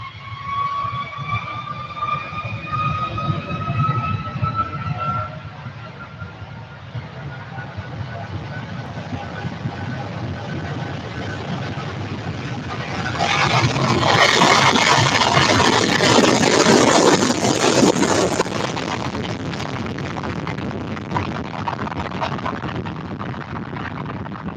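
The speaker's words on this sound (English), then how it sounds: "There it goes. A330 Virgin Atlantic," Virgin Atlantic A330 airliner taking off at Manchester Airport, a distant engine roar swelling to a louder broad rush midway and then easing off, with talk and background noise throughout.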